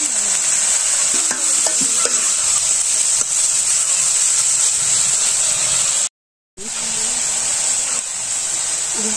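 Steady loud sizzling of chopped cauliflower frying in a pan, with occasional scraping stirs and a brief break midway.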